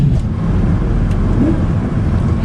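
Lamborghini Gallardo engine and exhaust on downshifts, a steady, loud in-cabin drone with a brief rising blip midway, no talk over it.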